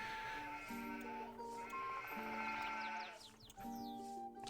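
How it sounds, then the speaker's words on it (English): Sheep bleating loudly in the city-building game Anno 1503, wavering calls repeating over layered game music and ambient effects. "And we kind of need to get rid of that sheep sound."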